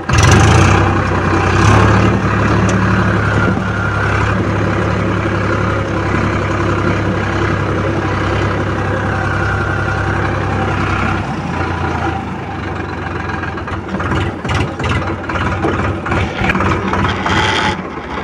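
A 2024 Eicher 551 tractor engine runs in gear, loud and close, holding a steady low diesel drone that eases slightly partway through, with some rattling on top.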